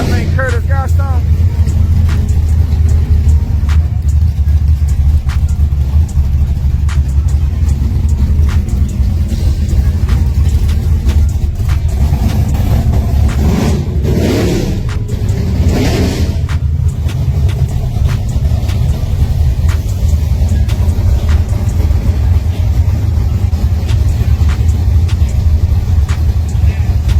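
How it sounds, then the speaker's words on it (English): Drag racing cars, Curtis Horne against XPill 2.0, roar down the track at a June test session at XRP. The engine rumble stays loud and continuous for nearly half a minute as spectators talk. "Y'all sure right lane car sound way louder."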